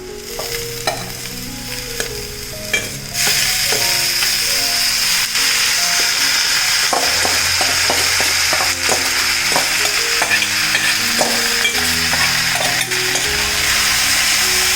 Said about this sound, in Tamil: இதை நல்லா நீங்கள் கிண்டி விடுங்க.